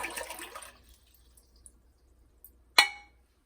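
Water sloshes and pours into a container during a lab measurement, a brief trickle, then a sharp splash near the end with a glassy clink.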